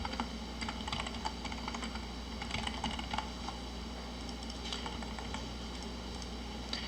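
A password is typed on a computer keyboard during a demo of a shopping-mall web project. Light, scattered key clicks sound in irregular clusters over a steady low background hum, with no voices.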